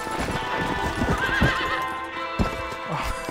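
A horse in the Red Dead Redemption video game clops along with steady hoofbeats and lets out a loud whinny partway through, both close and clear with no talking.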